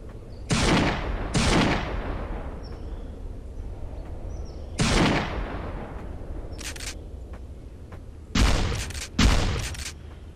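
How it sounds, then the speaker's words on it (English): Gunshots in the blocky multiplayer shooter Murder Miners, sharp single cracks spaced apart, two early, one in the middle and a quick pair near the end, over quiet game background. "Why are you shooting at me?"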